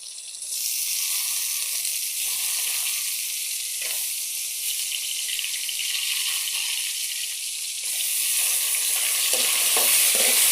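A loud, continuous hiss of dry fish sizzling in a hot pan of onion and tomato curry, with a brief stir in the middle and the frying swelling louder near the end; no voices.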